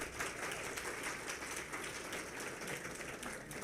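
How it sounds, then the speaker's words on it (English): An audience at a Women Owned Business Day event claps in a dense, continuous wash of applause, steady and fairly faint, with no voices over it. "I would like you to give yourself a round of applause"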